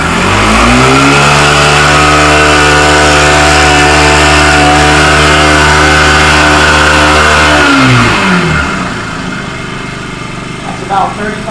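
A 4-stroke 49cc gas motor scooter engine revs hard inside a garage, holding a loud, steady high drone for several seconds before the pitch drops sharply and it settles into a quieter idle.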